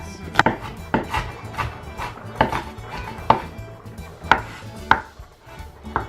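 Onions being chopped on a board in a home kitchen while capicola warms in a pan, irregular sharp knife knocks spaced a fraction of a second apart over a low background hum, close and moderately loud.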